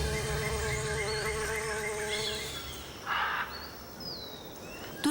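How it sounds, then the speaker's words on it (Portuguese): Bees and other insects drawn to flowering trees in the Amazon rainforest, a steady close buzzing drone with passing wingbeats and faint bird calls behind. "Seu néctar rico atrai abelhas e outros insetos."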